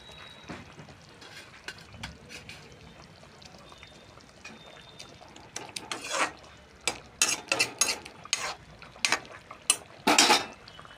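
A spoon works through rohu fish curry in a pan, with scraping and clinking against the metal that start faint and grow into a run of sharp, close strokes toward the end.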